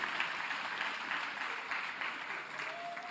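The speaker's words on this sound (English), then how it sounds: "let's give South African Police Service a big round of applause" Distant, fairly faint applause from the crowd at an ANC provincial gathering in Mpumalanga, a steady wash of many hands clapping that continues evenly for a few seconds without talk.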